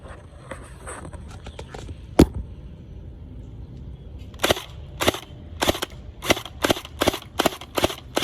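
An M4A1 gel blaster fires during a shooting test. A few faint pops come first, then one loud crack, then a quick run of sharp, close shots about a third of a second apart. Nobody speaks.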